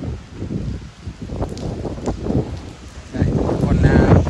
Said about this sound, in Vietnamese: Trời mưa nhưng mà cũng không có sấm sét gì cả, chỉ có gió